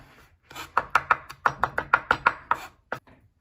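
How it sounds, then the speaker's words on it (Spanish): A knife chops salted garlic on a cutting board in a quick, steady run of about a dozen crisp, close taps, with no talking. "Lo sigo picando."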